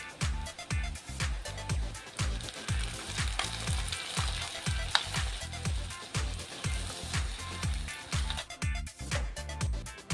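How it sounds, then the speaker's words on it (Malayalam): Roasted ground coconut paste sizzles in a pan over sautéed green chilies and curry leaves for a Kerala-style fish curry, with a steady, rhythmic crackle and stirring pulses, close by and with no talk. "നമുക്കിനി അരപ്പൊഴിച്ചു കൊടുക്കാം"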